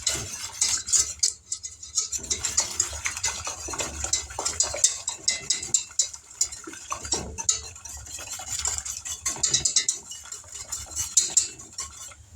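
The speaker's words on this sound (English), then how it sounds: "We're going to give this a stir." A spoon works through a banana pudding mixture with lemon juice and cinnamon in a bowl, giving repeated close scraping and clinking strokes in an uneven rhythm, with quiet pauses between bursts.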